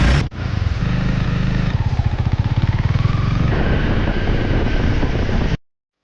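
Rented motorcycle ridden on the Mae Hong Son loop in Thailand, a steady engine drone with heavy wind rush over the mic, running continuously for several seconds before cutting off, with no talk.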